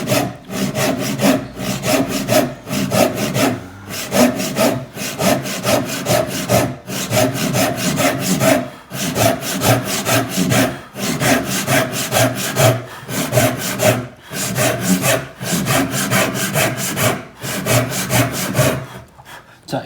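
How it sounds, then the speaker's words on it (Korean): A hand saw cuts through wood on a diagonal line in a joinery practice session, its strokes rasping in a steady back-and-forth rhythm with brief pauses between runs, close and loud with no talk. "이런 식의 톱질"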